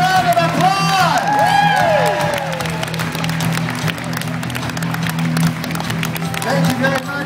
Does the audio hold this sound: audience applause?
yes